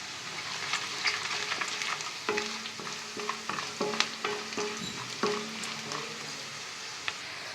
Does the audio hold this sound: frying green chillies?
yes